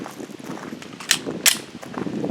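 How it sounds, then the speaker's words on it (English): A 9mm 115-grain full metal jacket round is fired at a computer, giving two sharp, brief cracks about half a second apart over steady background noise. "So now let's shoot that computer again, this time with a 9mm ball ammunition."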